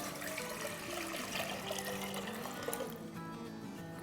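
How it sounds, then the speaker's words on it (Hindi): Five cups of water pour into a cooking pot for a summer drink recipe, a continuous splashing gush that stays steady and fairly close before tapering off near the end. "यहाँ देखिए हमारे पास एक पॉट है, इसमें हम डाल देंगे 5 कप पानी"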